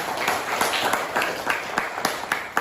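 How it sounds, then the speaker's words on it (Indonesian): A classroom of students claps for a classmate, a quick, fairly even patter of hand claps close by with no talking. "Tepuk tangan untuk teman kalian."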